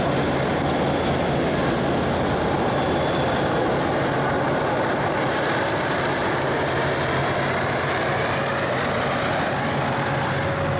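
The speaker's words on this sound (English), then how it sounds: "The 8 milk wagons on the rear of the Westland Milk Products train were once part of the Taranaki-Fonterra milk trains" A New Zealand Westland Milk Products freight train hauling eight milk wagons on the KiwiRail network rolls past with a steady, continuous rumble and broad mechanical roar, fairly close, with no talking.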